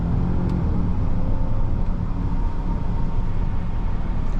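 A 2025 Volvo XC90 B6 Ultra SUV accelerating smoothly, heard from inside the cabin as a steady low engine and road rumble, even and continuous with no voices.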